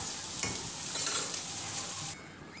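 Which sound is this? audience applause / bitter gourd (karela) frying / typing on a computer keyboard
bitter gourd (karela) frying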